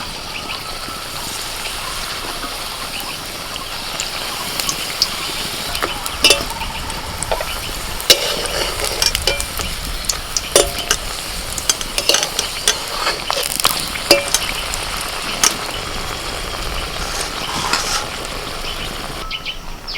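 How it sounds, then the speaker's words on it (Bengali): Papad slices fry one at a time in hot white oil in a wok. A steady, close, crackling sizzle runs throughout, with sharper pops and clicks scattered over the hiss and no talking. "কড়াইতে সাদা তেল গরম করতে দিয়েছি"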